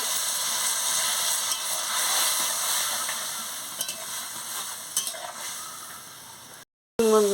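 A jhinge, cucumber and potato curry simmering in a pan after water goes in, giving a steady close hiss and bubbling sizzle throughout, with a few faint clinks, then a brief cut to silence near the end.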